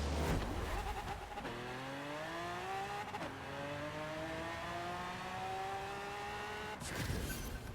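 Drag car launching in first gear in Forza Horizon 4, engine screaming up through rising revs with a couple of quick shifts, loud and close, no talk.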